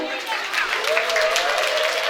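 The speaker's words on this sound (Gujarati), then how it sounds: "તો આપણે એને તાળીઓથી વધાવશું" A school audience at an annual function in Amreli applauds the school's national-level rugby team. The clapping is dense and continuous, and a voice carries over the crowd.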